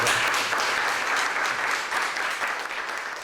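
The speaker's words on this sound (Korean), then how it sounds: "큰 박수 부탁드립니다." Audience applause for a painter at a Korean contemporary art program, steady broadband clapping that stays dense throughout and fades slightly toward the end, with no voices over it.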